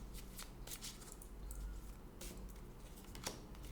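Tarot cards are shuffled and drawn with soft, rapid riffling and flicking sounds, faint and close over a low background hum.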